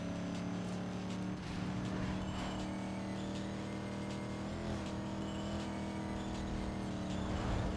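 A Lada Samara's engine drones steadily in a Need for Speed Most Wanted street race, a sustained, fairly loud motor hum with slight pitch shifts as the car keeps pace, no talk heard.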